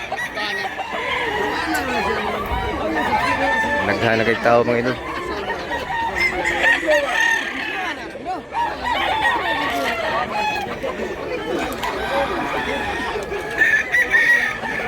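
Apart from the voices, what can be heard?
chickens for sale at market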